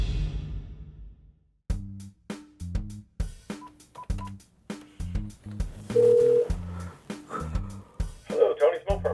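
Phone keypad tones being dialed on a landline-style phone to call a Mopar parts shop, a quick series of short beeps in an uneven rhythm, followed by ringback tones, with faint background hum and no speech in between.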